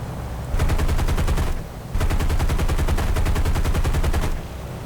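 Aircraft machine guns in an American air combat video game fire two long, rapid bursts of evenly spaced shots, loud and close, separated by a short pause.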